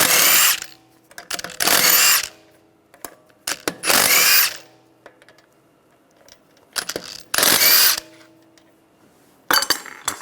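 A power tool with a 17mm socket spins lug bolts off a 2009-2013 BMW 328i xDrive wheel. Five loud whirring bursts come in an uneven rhythm, with light metallic clinks and rattles between them.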